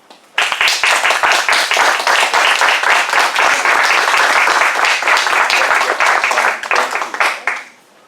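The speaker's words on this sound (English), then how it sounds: "Should just keep on clapping until I sit down." Audience applause after a speech, a sudden loud wall of close, crisp clapping that holds steady for about seven seconds before tailing off quickly, with a voice faintly audible beneath it.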